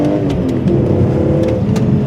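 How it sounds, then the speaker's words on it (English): BMW E46 M3 exhaust heard from the rear of the car, a steady close engine drone with a low rumble that holds even throughout without any speech. "the third thing I don't particularly like on this car is the exhaust sound."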